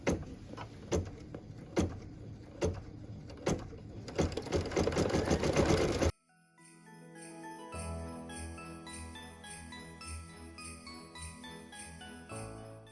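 A home embroidery machine stitches small vine accents onto a fabric Christmas ornament, its rapid needle chatter steady and close for the first half, then giving way to soft background music.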